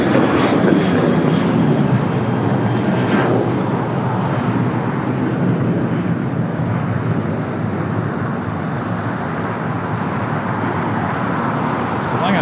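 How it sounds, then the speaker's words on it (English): An American Airlines Boeing 737-800 in retro livery takes off at LAX with a loud, steady jet roar that fills the whole stretch without letup. "the American Retro 737-800 took off there on the north side"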